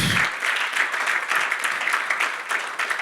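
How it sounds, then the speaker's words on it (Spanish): Applause fills a church service offered to the glory of God, a dense crowd clapping loudly and steadily throughout with no voices on top. "Dale un aplauso a la gloria de Dios."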